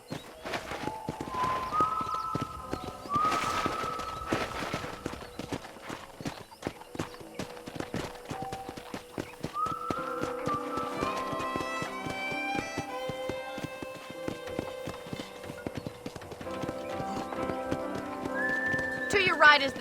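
Horse hooves clip-clop in the Red Dead Redemption video game, rhythmic hoofbeats repeating close by alongside a brief whinny, with game music and spoken dialogue over them.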